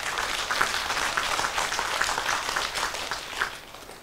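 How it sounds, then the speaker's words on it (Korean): A temple congregation at a Sunday Buddhist dharma service breaks into dense, steady applause, many hands clapping together close by for the whole stretch with no talk. "박수를 한번 쳐야 돼요."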